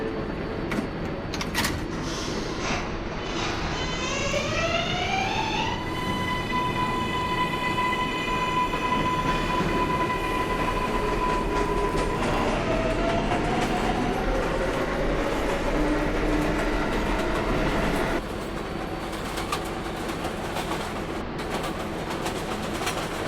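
An R142A 6 subway train in New York runs between 125th and 59th Street stations, its motors whining up in rising tones that settle into a steady hum over loud, continuous wheel and track rumble, then wind down near the end.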